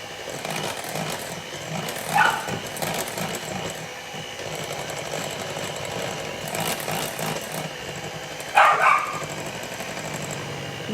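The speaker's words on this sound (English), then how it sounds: "For those of you who have met the dogs, you'll know that's Sirius yelling at me." A pet dog named Sirius barks in two short bursts over a continuous mechanical hum, with a kitchen-like background noise running throughout.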